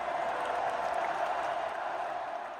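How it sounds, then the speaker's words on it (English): Distant crowd cheering and applause from a high school sports event, a steady, dense roar of many voices held at an even level throughout, slightly fading toward the end. "Did I just hear people cheering?"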